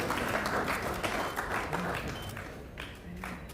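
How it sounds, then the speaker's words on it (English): Audience applause at a live grand finale event, a steady wash of clapping throughout that thins slightly toward the end, with no voices standing out above it. "put your hands together as we celebrate our very own"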